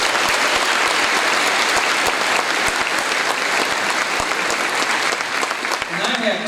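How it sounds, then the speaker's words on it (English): Loud, sustained applause from a crowd at a school convocation, dense clapping with a few sharper claps standing out, thinning slightly near the end as a voice begins. "Let's give them a big round of applause."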